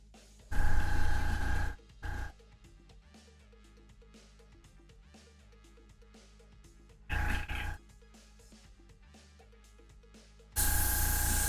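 A hobby airbrush being cleaned out while painting a Tyranid miniature, firing three loud hissing bursts of spray, the first and last lasting over a second, separated by quieter stretches.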